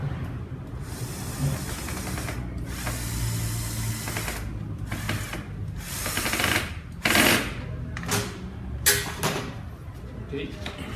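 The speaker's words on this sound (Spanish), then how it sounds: "Procedemos a ajustar el tornillo." Screw being tightened with a power driver on a PORT 423 Enrich backpack fogger sprayer, several bursts of whirring motor noise, close and moderately loud, with someone speaking in between.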